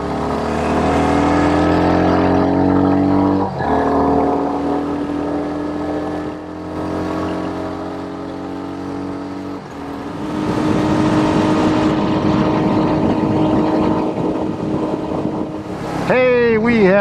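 Royal Enfield Hunter 350 single-cylinder motorcycle being ridden on country roads in Iowa, a steady engine drone with shifting pitch as gears change, loud and close, with wind rush throughout.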